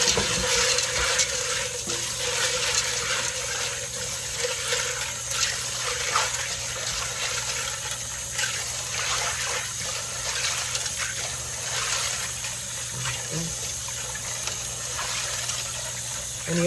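Running water splashes and gushes steadily into a pot as dried peas are rinsed for stew peas, a continuous close wash of liquid sound with faint clattering and no talk.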